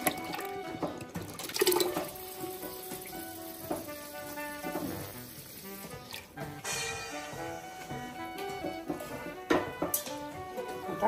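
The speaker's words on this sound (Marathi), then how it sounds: "पाणी टाकून असं ढवळून ठेवायचं परत." Water sloshes and swirls as it is stirred into soaked semolina, with soft splashes and drips over steady background music.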